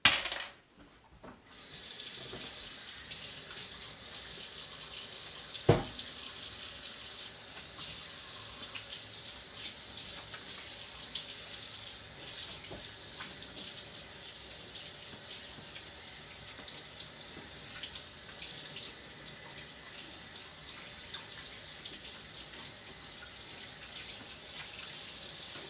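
Steady rush of tap water running into a sink while hands and arms are scrubbed up to the elbows, continuous and moderately close after a brief quiet start, with one small knock partway.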